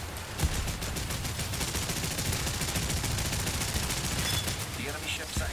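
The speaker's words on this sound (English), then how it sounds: "Let's paint him with our bullets." Rapid machine gun fire from warships in the naval battles of War Thunder rattles in a continuous fast burst of close, even shots, with faint talk underneath.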